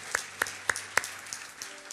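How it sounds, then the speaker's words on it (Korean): A congregation giving a short round of applause in a church, with a few distinct claps standing out from soft, scattered clapping that quickly thins out. "우리 다시 한번 하나님 앞에 영광과 감사의 박수 올려드리도록 하겠습니다."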